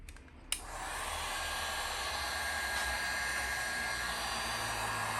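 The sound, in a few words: heat gun shrinking heat-shrink tubing on a throttle cable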